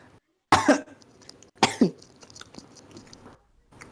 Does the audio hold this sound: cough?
yes